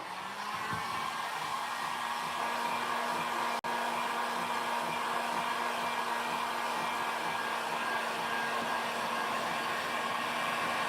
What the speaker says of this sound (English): Always keep your heat gun going, guys, when you're running the WoodUbend moulding look.